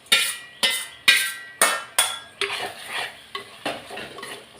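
A spoon scrapes and clinks rhythmically in a pan as masala is stirred into sautéed bitter gourd, with about ten regular strokes close by and a faint sizzle underneath.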